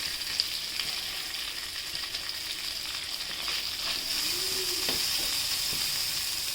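Cinnamon, cloves, cardamom and bay leaf fry with sliced onion in a hot pan, giving a steady, close sizzle and hiss with a few faint stirring scrapes. Nobody speaks.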